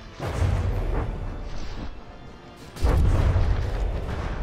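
Explosions in the naval combat game From the Depths: two heavy, deep booms a couple of seconds apart, each with a rumbling decay, loud and close with no voices.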